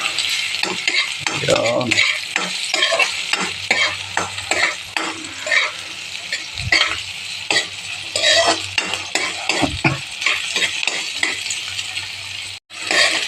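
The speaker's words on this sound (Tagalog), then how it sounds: "ginigisa na natin yung bawang, sibuyas, luya." Garlic, onion and ginger sauté in a pan, with a steady crackling sizzle broken by frequent metallic clinks and scrapes of a spatula stirring close up, and a voice speaks briefly.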